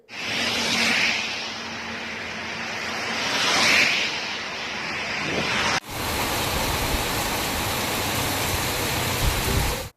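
Heavy thunderstorm rain in the Namakkal and Perambalur districts, a steady dense hiss of downpour across two back-to-back shots, with no talk over it.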